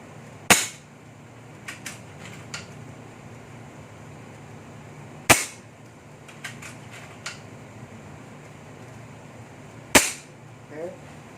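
A custom air rifle fires three sharp, loud cracks spaced about five seconds apart, each followed by faint mechanical clicks and handling noises against a quiet background.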